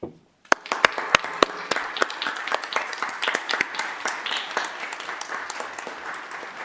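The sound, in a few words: applause for essential workers at a city council meeting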